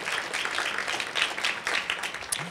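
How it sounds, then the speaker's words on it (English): A concert audience at a song showcase gives a brief round of applause, scattered uneven hand claps rising and falling, somewhat distant and moderately soft. "So if we could give a round of applause to our director, Wanda Abraha."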